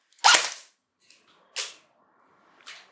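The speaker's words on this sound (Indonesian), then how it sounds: "Kita akan tes tembakan pertama." JUND M4 gel blaster with a swapped AEG gearbox firing test shots, one sharp loud snap followed by several quieter cracks at irregular intervals, close by, with no talk.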